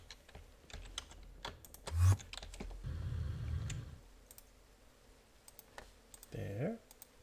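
Keys clatter on a computer keyboard in quick light taps and short bursts, close and fairly quiet, with someone talking in between.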